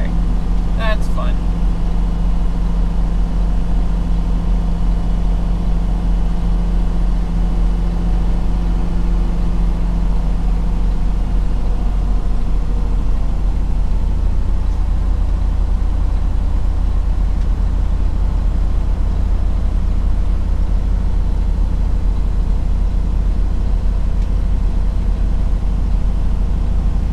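Steady, loud, low rumble of engine and road noise from inside a car rolling down a mountain road into a layer of cloud, continuous and unchanging throughout.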